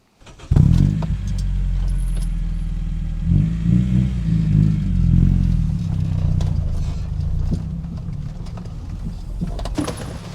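An AWD Honda car starts up and drives off through snow, a loud steady engine drone with a low rumble and crunching clatter that slowly fades as it pulls away.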